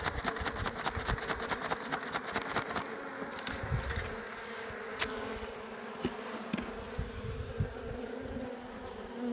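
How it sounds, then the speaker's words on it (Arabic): Honeybees drone in a steady, close, continuous buzz at an open hive during an inspection, the colony strong in numbers but weakened by varroa mites, with a few sharper passes of individual bees near the microphone. "النحل كاين كثرة والحضانة قليلة"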